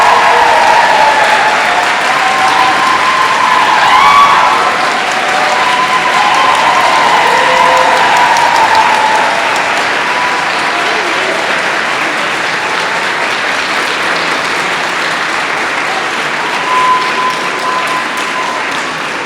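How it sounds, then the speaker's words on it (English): Sustained audience applause fills a commencement ceremony hall, dense steady clapping throughout, loud and continuous with faint crowd murmur beneath, tapering slightly toward the end. "Another round of applause."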